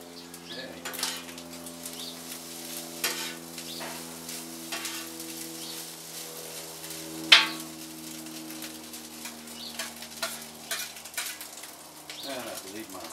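Fried rice sizzles in a pan under a steady low hum, with intermittent scraping stirs and one sharper clatter partway through, close and moderate in level.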